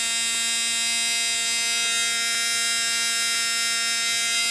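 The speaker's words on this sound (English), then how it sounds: "the caps are taking over, running the motor" An electric motor powered by supercapacitors and a battery runs with a steady, close, high-pitched whine and hum, holding a constant tone without voices.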